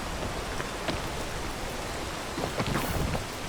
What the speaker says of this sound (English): It is raining, but it doesn't matter.